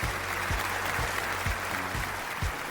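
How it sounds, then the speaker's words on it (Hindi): Studio audience applause at a televised Pakistan Idol gala round singing competition, dense and steady for the whole stretch, with a low musical hum and periodic thumps underneath. "एक दफा भरपूर तालियां हमारे इन सुपरस्टार्स के लिए"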